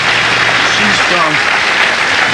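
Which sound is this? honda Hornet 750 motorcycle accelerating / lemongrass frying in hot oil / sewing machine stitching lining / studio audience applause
studio audience applause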